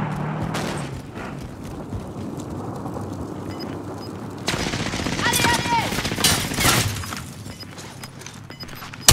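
Incoming gunfire in Call of Duty: Warzone on Rebirth Island rattles in bursts over busy game noise, with a louder, denser stretch of shots in the second half.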